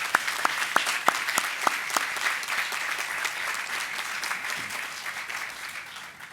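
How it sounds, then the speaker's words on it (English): Applause at a university convocation ceremony, beginning with a few sharp, distinct claps and swelling into steady, moderately loud clapping from a large audience. "Another round of applause for our speakers."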